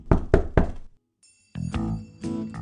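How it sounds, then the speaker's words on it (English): Three quick, hollow knocks rap on a door in a puppet-theatre Cinderella story, followed by a pause and then a burst of voices and clattering sounds. "Cinderella was cleaning her stepfamily's house when she heard the knock on the door"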